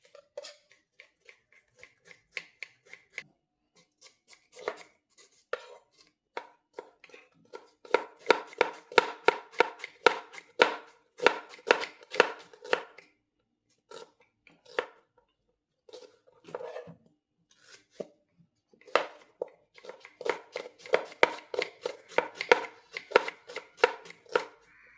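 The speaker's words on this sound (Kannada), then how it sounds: "ಎಲ್ಲ ಈರುಳ್ಳಿಯನ್ನು ಕೂಡ ಇದೇ ರೀತಿ ಸಪುರ ಕಟ್ ಮಾಡ್ತೇವೆ" Knife chopping onions into thin slices, part of two and a half kilos of peeled onions being prepared, heard as rapid bursts of crisp, evenly spaced chops on a board with short pauses between runs, close and without talk.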